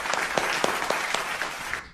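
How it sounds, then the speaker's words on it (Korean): Short burst of applause from a group welcoming new students to a display engineering department, dense clapping that fades out after about two seconds. "박수!"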